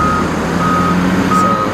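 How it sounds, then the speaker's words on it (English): A large coal truck backing up at a coal-fired power plant, its reversing alarm sounding about three evenly spaced loud beeps over a low diesel engine hum. "coal truck is going to dump this stuff in the crusher"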